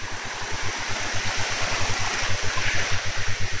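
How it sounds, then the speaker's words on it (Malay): A river stream flows beside a trail, a steady loud broadband rush of water, with a rhythmic low thumping pulse running underneath throughout and no speech. "Ini sungai yang pertama."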